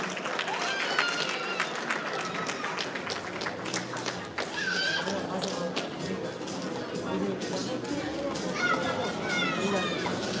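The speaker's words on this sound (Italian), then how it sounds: "Lo facciamo un applauso a Davis." A crowd applauds boxer Davis Boschiero at the final of a Veneto regional elite boxing tournament, with steady dense clapping running the full length under talk in the hall.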